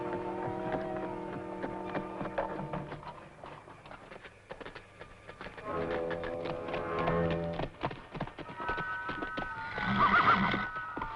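Horses whinny repeatedly, long shrill neighs rising and falling, over scattered hoof clatter and knocks, with a loud neigh near the end.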